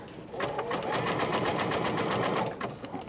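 A sewing machine runs a zigzag stitch over sequins in one continuous close burst, its needle clatter steady and fairly loud for about two seconds before slowing and stopping, with no voice over it.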